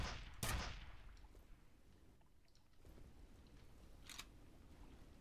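A nail gun firing in the horror shooter video game F.E.A.R., with one sharp, loud shot at the start and another fainter shot a few seconds later over a low background rumble.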